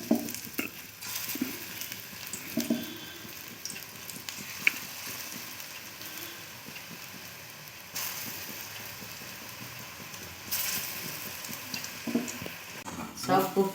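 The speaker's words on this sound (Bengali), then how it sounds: "আমি সেমভাবে আরও বড়াগুলো তো ভেজে নিচ্ছি।" Bottle gourd kofta balls fry in a pan of oil, a soft, steady sizzle close by with occasional clinks and stirring, fairly quiet throughout with brief louder bursts near the end.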